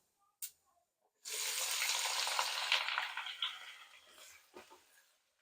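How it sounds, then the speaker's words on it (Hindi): Spices and two large finely chopped onions hit hot oil in a pan for matar keema, a sudden loud sizzle that bursts up after a short quiet, then gradually fades, with a couple of faint clicks and no talking. "मसाले को पहले फ्राई करेंगे थोड़ा सा"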